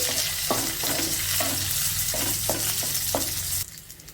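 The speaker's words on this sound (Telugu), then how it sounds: "చివరగా ఒక 1/2 టీ స్పూన్ జీలకర్ర వేసేసుకొని జస్ట్ లైట్గా ఫ్రై చేసేసుకోవాలి" Cumin seeds and fresh curry leaves fry lightly in hot oil in a pan, giving a steady sizzle broken by repeated clinks and scrapes of stirring. The sound drops off abruptly near the end.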